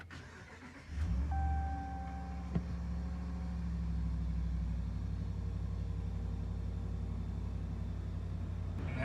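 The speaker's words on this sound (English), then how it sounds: "Okay, start the car up." A 5th-gen Ram 1500 Hemi eTorque V8 pickup cranks and catches, then settles into a steady, low, even idle that runs on alone for several seconds.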